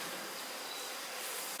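A dense, steady buzzing of many honey bees, close and constant, with no voices.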